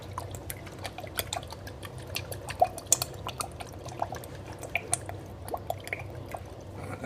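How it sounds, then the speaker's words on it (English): Cholula hot sauce shaken and poured from a bottle, a quiet, irregular run of small drips and splats spread over several seconds, close by with no voices. "We're going to put in some Cholula hot sauce as well. Pour some of that in"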